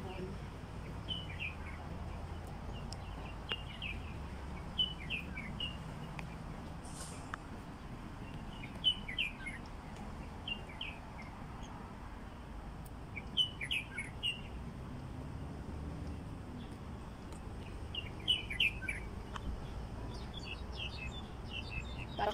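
Small birds chirp in scattered short bursts over a quiet, faintly rumbling outdoor background.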